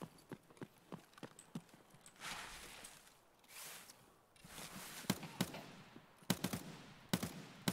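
Gunfire in Escape from Tarkov arrives as sharp separate shots, some in quick bursts, fairly distant and quiet, with rustling movement between them.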